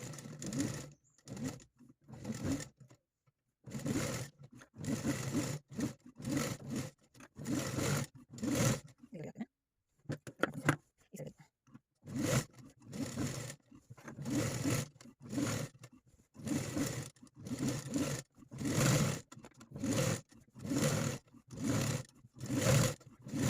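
An electric sewing machine stitches cutwork fabric with lining cloth in repeated short runs, each burst of rapid mechanical chatter broken by brief pauses, close and steady throughout.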